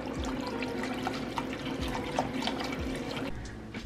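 Water pours steadily into a pot of chicken stock made with bouillon, a continuous splashing, gurgling stream with a few soft knocks, fairly close, ending as the pour stops.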